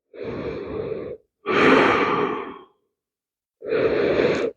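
Three loud, close breaths during a yoga moon salutation, each a full airy exhale or sigh lasting about a second, separated by short silences.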